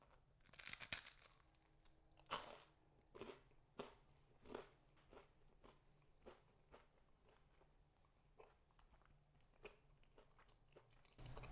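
Crunchy toasted bread spread with coho salmon pâté with cream cheese and dill, bitten and chewed close up, a series of crisp crackling crunches in a steady rhythm, quiet and alone.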